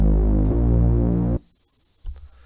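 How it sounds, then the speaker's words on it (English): A synth bass plays a filtered saw wave with unison, a thick, buzzing low note sustained for over a second before it cuts off abruptly. A brief soft thump follows. "it just sounded like a filtered saw wave, but actually with a bit of unison on it."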